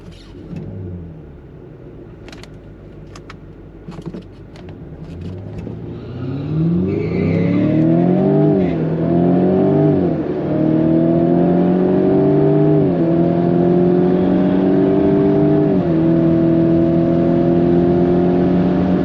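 A Skoda launches at a Santa Pod drag race, opening with a quiet idle and scattered clicks before the engine revs hard through several rising gear pulls, loud and close, then holds a sustained high-revving drone.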